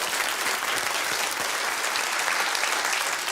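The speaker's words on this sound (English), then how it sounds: "All these fully grown men and women clapping themselves." A studio audience on a 1993 television game show claps loudly and continuously, a dense, even burst of applause with no speech over it.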